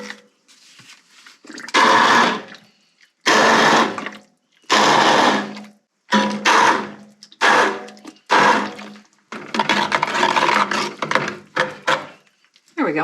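A blender buzzes soup into a creamier texture, running in several loud pulses of a few seconds each with short pauses between them, then one longer run.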